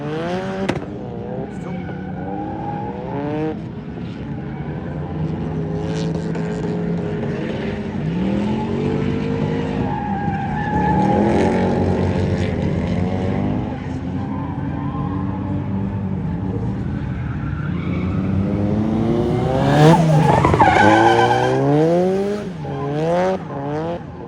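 An SR20-engined race car runs on track, its engine note rising and falling through gear changes and corners with uneven stuttering misfires, loud and close from onboard, with a brief tyre squeal.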